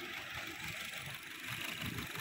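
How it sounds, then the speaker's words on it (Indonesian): A Honda Mobilio engine idles quietly and smoothly with a faint, fast, even ticking from its fuel injectors. "mesin halus sekali, hanya terdengar suara injektor saja"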